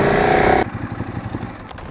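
A Ducati Streetfighter 848 motorcycle engine idles loudly and steadily up close, then cuts off abruptly, leaving a quieter low rumble and faint clicks for the rest of the moment.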